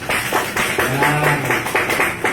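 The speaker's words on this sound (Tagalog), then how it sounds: "palakpakan natin ng malakas" Audience clapping for a guest named Donna May Flix at a testimony gathering, with distinct rhythmic claps repeating in near-regular pulses, fairly close and loud, and a faint vocal tone underneath.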